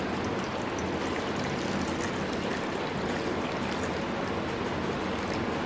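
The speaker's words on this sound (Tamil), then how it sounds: "இந்த மாதிரி ஒரு ஸ்டாண்டு உள்ளே வச்சுட்டு சூடான தண்ணியை வந்து இதில் சேர்த்துடலாம்" Hot water pours steadily into a kadai pan holding a stand for steaming bread pudding, a continuous close rushing splash with no break from start to finish.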